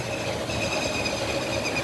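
A train rumbles past close by, with a steady roar of wheels and a high metallic squeal running throughout.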